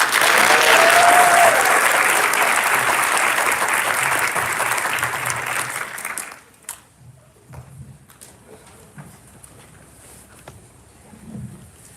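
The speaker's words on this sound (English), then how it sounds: "And one more round of applause for our students." Loud audience applause at a school board of education meeting, honoring students, fills the first six seconds with dense clapping and a brief whistle, then fades to scattered claps and quiet room noise.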